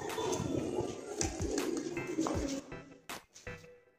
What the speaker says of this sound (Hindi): किस कदर महंगे और हसीन कबूतर आपके पास मौजूद हैं